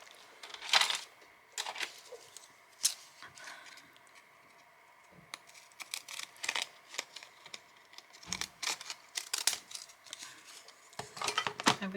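Scissors cut through paper for a mixed media collage in a quiet room, making sparse crisp snips and rustling crinkles with pauses between them.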